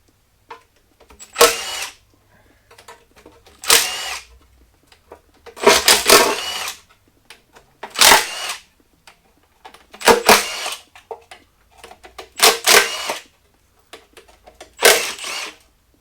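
A power tool removes oil pan bolts from a Ford Foxbody 302 short block, firing in about eight sharp, separate bursts a second or two apart, close and loud against near silence.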